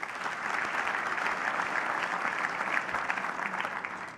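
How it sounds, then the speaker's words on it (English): Applause from a keynote audience fills the room, a dense, even patter of many hands clapping steadily throughout with no speech over it. "So I want to pause there for a round of applause first for the industry partners."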